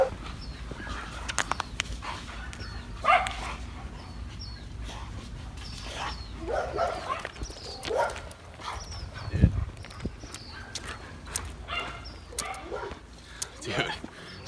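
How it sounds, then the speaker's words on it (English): Many dogs bark behind yard fences along a residential street, sharp barks and yips scattered at varying distances amid street noise, with people talking over them. "Dude, so many dogs."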